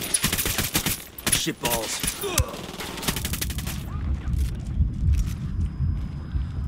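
Rapid bursts of automatic gunfire in the open-world shooter Ghost Recon Wildlands, sharp repeated cracks crowding the first few seconds, then a lower rumbling stretch of further shots and action; someone talks and swears over it.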